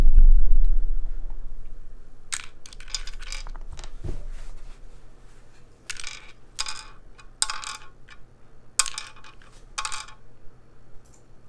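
Plastic keycaps on an aluminum-cased mechanical keyboard, a Vertex Angle build, clacking in sparse bursts of sharp, bright clicks after a thud, close and fairly quiet, with no voices.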